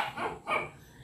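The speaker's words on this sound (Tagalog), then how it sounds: "Yung mga maingay naming aso." Two sharp barks from pet dogs in a household yard, one after another a short distance off, moderately loud with a bit of background hiss.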